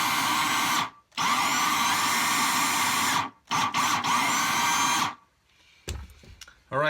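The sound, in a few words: good cordless drill running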